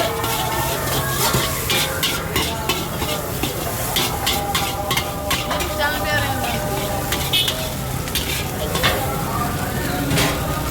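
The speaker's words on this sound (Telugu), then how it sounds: "ఇప్పుడు మళ్ళీ తిప్పుతా ఉన్నాడు అలా ఫ్రై అయ్యేదాకా తిప్పుతానే ఉంటాడు" Chicken fried rice with chilli and tomato sauce is stirred in a hot pan, giving a steady loud sizzle broken by scraping and clattering of the utensil against the pan.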